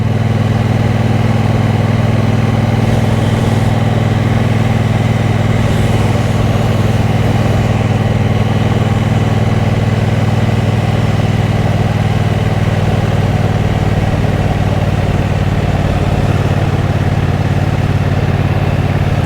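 A steady, smooth engine drone with a low rumble holds throughout from a 2023 Triumph Bonneville Bobber 1200 motorcycle cruising at constant speed, with no voices.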